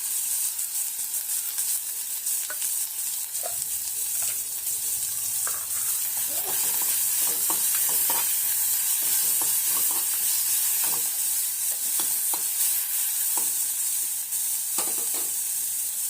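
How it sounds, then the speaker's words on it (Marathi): Green chili paste and curry leaves fry in hot oil for a vada pav tempering, giving a dense, steady sizzle with scattered stirring clicks throughout, close and loud. "ह्यात आपल्याला हे मिरचीचं वाटण घालायचं आहे"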